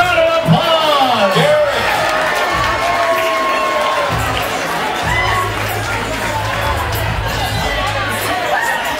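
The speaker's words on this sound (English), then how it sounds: "Give him a big round of applause!" A karaoke crowd cheers and whoops for a singer, loud overlapping shouts and chatter filling the room, with voices and music tones threading through the noise.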